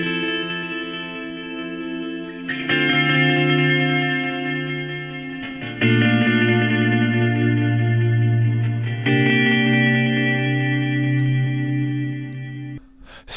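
An electric guitar played through an Echo Tunnel tremolo effect in Ableton Live, using LFO and envelope modulation, sounds as sustained chords changing every few seconds, with a warm, steady pulsing shimmer and reverb-like wash.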